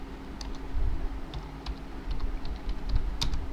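Code being typed on a computer keyboard, a quick irregular run of light key clicks, close and alone over a faint steady hum.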